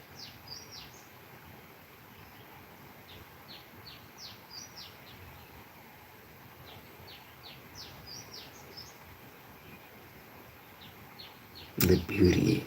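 Distant birds chirp and sing in short repeated phrases over quiet village morning ambience, ending with a brief louder burst of noise and a voice.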